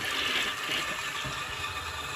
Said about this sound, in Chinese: 冲水试一下还是没有效果